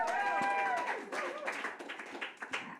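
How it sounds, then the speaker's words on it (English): Audience applause at a lifetime achievement award ceremony, breaking out right after a performer's name is announced; scattered, moderately loud clapping follows a brief held tone and fades unevenly. "y'all gotta applaud after every name"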